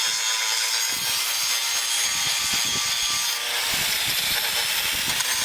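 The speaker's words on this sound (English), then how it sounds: "we have to grind those out before we can proceed any further" Angle grinder working over a hot forged chunk of bearing steel, grinding out shallow surface cracks; a steady, loud abrasive whine and rasp fills the whole stretch without pause or talk.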